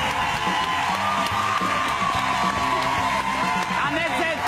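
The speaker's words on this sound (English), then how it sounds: "Give them all a big round of applause." A television studio audience cheers and applauds loudly, with whoops and shouts over a steady bed of clapping, and voices talking through the noise.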